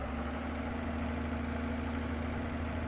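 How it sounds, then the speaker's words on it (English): A tractor engine idles in the farming video game Farming Simulator 22, a steady low rumble with a constant hum and no change in pitch or loudness, with no voices. "It sure is a zippy little old tractor."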